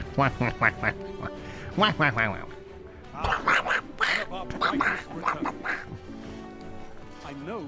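A man imitates a duck with his voice, producing a series of raspy, nasal Daffy Duck-style quacks in quick bursts, close to the mic, with short pauses between phrases.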